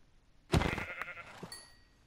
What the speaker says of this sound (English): That poor sheep just got completely annihilated.